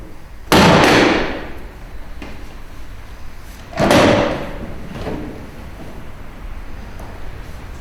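A Spitfire bomber aircraft's cockpit door is pulled shut on a museum airframe, two loud close bangs a few seconds apart, each with a rattling decay, followed by quieter knocks.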